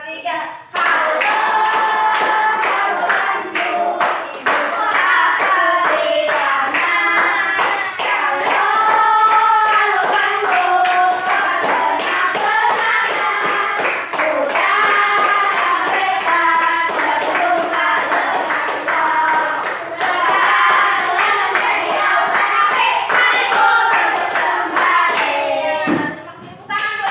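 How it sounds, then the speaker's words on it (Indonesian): Schoolchildren standing in a classroom sing the Indonesian song Halo Halo Bandung while clapping along, steady rhythmic claps beneath lively group singing that carries on for nearly half a minute before a brief break. "Kita menyanyinya dengan tepukan."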